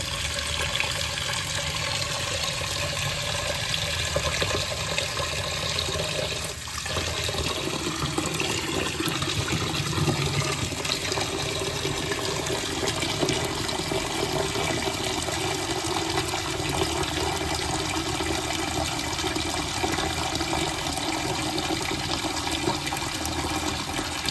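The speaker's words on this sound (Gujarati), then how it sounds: "પલાળવા માટે આપણે પાણી લઈ લઈશું એમાં" Water pouring steadily into a vessel of washed lentils set to soak for Gujarati dhokla batter, a continuous dense gushing rush that barely changes across the whole stretch, with no voices.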